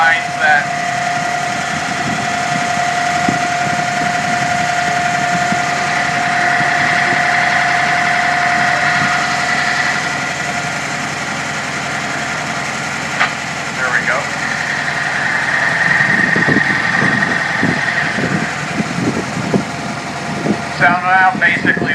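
A burr stone grist mill grinds grain into flour at a fall harvest farm demonstration, a steady mechanical hum and rumble running throughout while a person talks over it.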